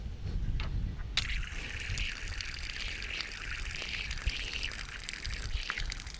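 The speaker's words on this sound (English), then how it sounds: "Here I have the Yakima 4-gallon road shower." Water sprays from a Yakima 4-gallon road shower with a broken shower head, driven only by heat pressure; after a brief quiet start, a steady close hiss of flowing water continues throughout.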